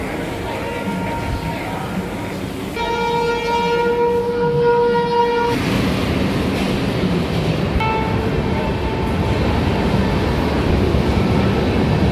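A long-distance passenger train on the Delhi to Pune route, with a steady loud rumble of cars and a sustained multi-tone horn blast in the middle, then a shorter horn note later, heard close from on board or trackside.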